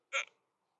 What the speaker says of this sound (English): Damn, I got the hiccups.